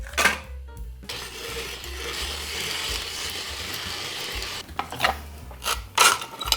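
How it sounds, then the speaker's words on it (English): A steady, harsh grinding rasp of an ice shaver shaving ice cubes for Korean bingsu runs for several seconds, with clattering knocks and mechanical clicks at the start and end. "So here comes the ice shaver. Throwing in the ice cubes just like this."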